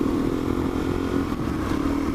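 Motorcycle engine running steadily at close range, a continuous mid-pitched drone with slight throttle swells while riding, no voices.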